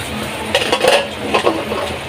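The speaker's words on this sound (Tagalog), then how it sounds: "haluin natin yung ilalim para hindi dumikit" A spoon scrapes and clinks against a cooking pot as a simmering pork stew with potatoes and carrots is stirred, giving a few brief close metallic scrapes over a low bubbling background.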